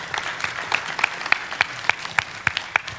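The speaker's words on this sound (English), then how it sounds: "you can clap, sure." A small church congregation at First Baptist in Goldthwaite, Texas claps during a worship service, welcoming new members into fellowship, with a light, uneven patter of separate claps at close range rather than a full roar.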